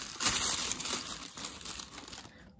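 Wrapping paper around a toy box crinkles and rustles steadily up close for a couple of seconds, fairly soft with no talking over it.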